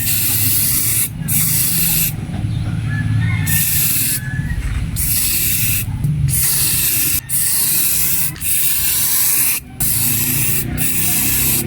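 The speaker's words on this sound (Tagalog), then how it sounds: "Spray na lang natin dito mga boss para iwas fade." A spray can puts clear coat onto a motorcycle side mirror in long, loud continuous hissing bursts with brief gaps between passes, close up and without talk.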